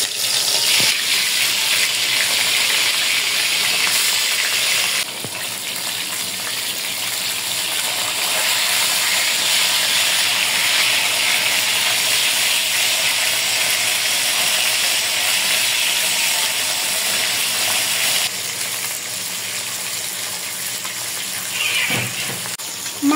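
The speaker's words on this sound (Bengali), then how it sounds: "রান্না করার জন্য প্রথমে মাছগুলো ভেজে নেব।" River katla fish, rubbed with turmeric and salt, fries in hot oil in a pan with a loud, continuous sizzling hiss that runs steadily throughout, shifting slightly once or twice, with no talk.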